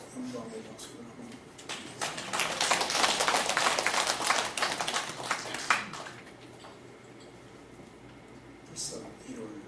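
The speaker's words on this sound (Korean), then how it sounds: "영광의 박수를 한번" A church congregation bursts into applause after a prayer during a Sunday service, the clapping swelling from scattered claps to a full, dense round for several seconds before fading, with faint voices before and after.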